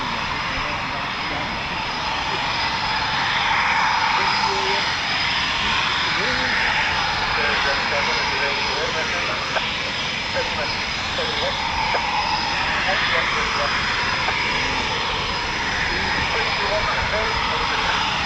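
Eurofighter Typhoon FGR4 jet at an RAF station, a sustained loud engine roar with a steady high whine, continuous throughout, with someone talking over it.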